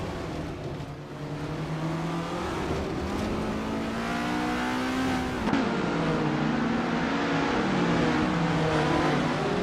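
A 1978 Metalex MTX 103C race car engine in a racing video game drones steadily and revs up and down in pitch, loud and continuous throughout, with no talking.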